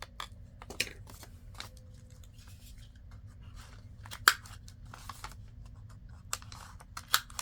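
Scissors snip paper for a craft pocket insert, a few faint, sparse cuts and rustles spread across a quiet tabletop background.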